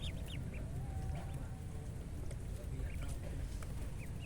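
Mulard and Muscovy ducklings chirp and peep faintly throughout a brooding pen, with scattered high calls over a steady low background hum and no talking.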